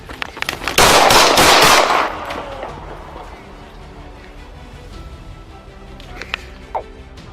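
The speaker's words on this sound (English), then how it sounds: "shots fired" A burst of rapid gunshots cracks out loudly during a police bodycam encounter with a knife-wielding man, followed by quieter scuffling, clatter and faint voices.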